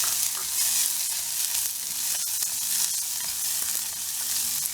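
Dried red chillies and cumin sizzle steadily in hot oil for a Senaikilangu Chukka (yam fry), a continuous close frying crackle with occasional stirring scrapes and no talk.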